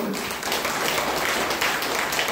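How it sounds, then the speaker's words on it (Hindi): Audience applause at a community gathering, a steady broadband patter of many hands sustained evenly for a couple of seconds at moderate loudness, with faint murmuring mixed in. "जोरदार ताली"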